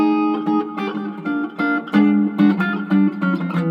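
A chromatic scale picked on guitar in quick succession, moving stepwise in a rapid, somewhat aimless run, played alone and close.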